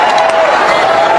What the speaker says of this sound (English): Listen to this crowd going wild